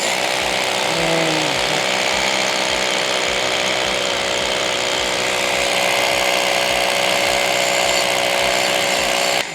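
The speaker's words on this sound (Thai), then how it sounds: "ก็เลยเอาสว่านมาเจาะ" A power drill breaks up rock at the bottom of a dug hole, running continuously and loudly with a rough, rattling hammering texture, grinding at steady strength throughout.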